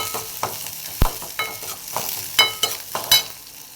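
Dried red chilies frying in hot oil for a Kerala-style moru curry, soft sizzling broken by several sharp spatula clinks and scrapes against the pan.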